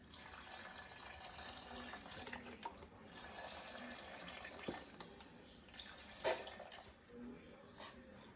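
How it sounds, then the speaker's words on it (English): Four cups of vegetable broth pouring into a pot for cauliflower soup, a faint continuous splashing stream with a few louder splashes, heard softly alongside quiet talk. "So we're going to put all 4 cups of the vegetable broth in."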